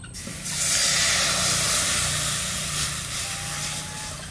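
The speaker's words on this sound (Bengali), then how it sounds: "তাই জল দিয়ে দিচ্ছি কড়াইতে।" Water is poured into a hot wok (kadai) after fish has been fried in it, for a fish curry with snake gourd. It bursts into a loud, broad hiss of sizzling and steam that holds strong, then gradually eases.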